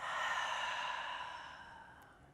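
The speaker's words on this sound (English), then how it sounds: "Big exhale out." One big, deep exhale during a guided breathing exercise, a soft airy whoosh that is strongest at the start and slowly tapers away over about two seconds, close and alone.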